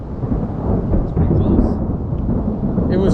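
Thunder from a close lightning storm among dark cells in the Wind River mountains of Wyoming, a loud continuous rumble that rolls on for the whole stretch with no speech over it.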